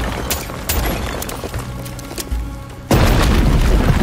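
Nets blown apart in Far Cry 6, with several sharp gunshot-like bangs over a low rumble, then a sudden loud explosion that stays heavy and close to the end.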